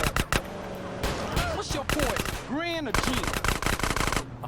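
Gunfire in the GTA San Andreas video game rattles in fast bursts and single shots, loud and close, mixed with whooshing swept effects and vehicle noise.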